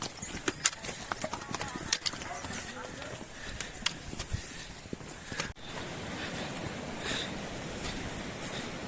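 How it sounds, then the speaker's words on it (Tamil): Donkeys walking along a Himalayan trekking trail on the Har Ki Dun route, hooves clopping in a loose, uneven rhythm at moderate distance, with outdoor ambience and people talking over it. "கழுதையா வருது."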